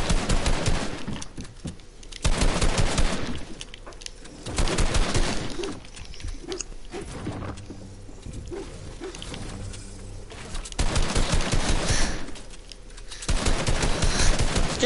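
Shotgun fire in a building-and-shooting video game: several loud, dense bursts of rapid blasts, each lasting a second or two, separated by quieter stretches of softer game noise and faint tonal chirps, with no talking.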